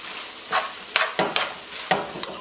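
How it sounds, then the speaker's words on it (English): Diced carrot and allspice are stirred in a frying pan over low heat, giving a few soft scraping strokes with gentle sizzling between them, close and without talk. "Heat still on low, give that a stir and let everything come together"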